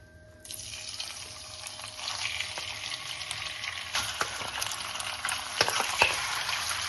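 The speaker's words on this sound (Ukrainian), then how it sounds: "Розігріту олію додаємо фарш." Minced pork sizzling in heated oil in a pan, a soft steady crackle that builds slightly with a few sharper spits and stirring knocks, heard alone without talk.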